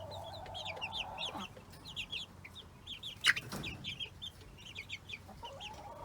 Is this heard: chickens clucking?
yes